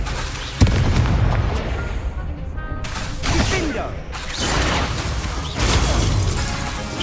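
Confringo fire spell in Hogwarts Legacy bursts with a sharp blast, followed by rumbling booms and crackling spell effects that swell and fade over several seconds.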